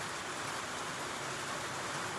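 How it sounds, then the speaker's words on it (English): Steady rain falls through the short stretch as a dense, even hiss, close and continuous with no voices over it. "The rain's picking up again."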